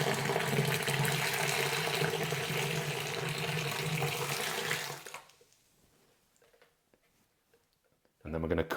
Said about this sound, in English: And then in with our litre of just boiled water.